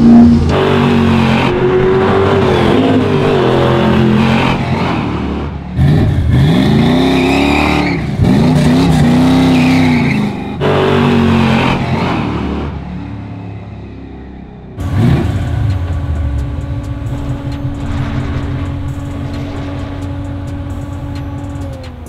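Loud, throaty V8 engine of a 1968 Chevrolet Camaro with Flowmaster exhaust revving repeatedly close by, deep rumbling bursts rising and falling, then settling into a rough, lumpy idle.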